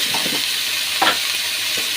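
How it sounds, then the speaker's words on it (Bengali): Taro and potato pieces frying in hot oil with turmeric, a steady soft sizzle with a couple of brief stirring scrapes, close and alone. "কচুটা আলুটা আমি কিন্তু সুন্দর করে ভেজে নেব"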